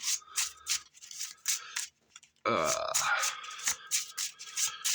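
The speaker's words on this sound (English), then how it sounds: "Let's shuffle this up nicely and see how well we do." A deck of trading cards is shuffled by hand in repeated quick riffling bursts, close and crisp. A longer dense rush of cards comes partway through, with short pauses between the other bursts.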